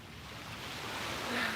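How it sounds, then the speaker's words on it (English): Ocean waves at a scenic shoreline produce a steady, soft wash of surf that swells slightly louder toward the end, with no voices. "soak in the sounds of the waves for 1 more minute"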